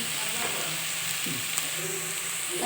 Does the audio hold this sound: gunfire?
no